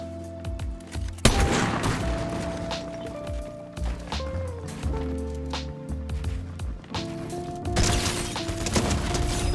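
Fortnite gunfire crackles in sharp bursts, a few loud volleys near the start and end with scattered shots between, over game background sounds and footsteps; no talking.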